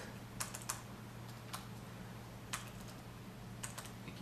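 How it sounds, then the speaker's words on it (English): Several separate keystrokes on a computer keyboard, clicking at an irregular pace over a low steady hum. Each tap is crisp and fairly close, and no one speaks. "I keep typing localhost"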